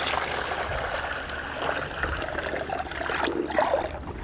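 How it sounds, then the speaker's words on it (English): Water from a bucket is poured into the top reservoir of a GreenStalk vertical planter, making a soft, continuous trickling stream that grows a little louder toward the end, with no talking. "what I typically do is I fill up a bucket of water"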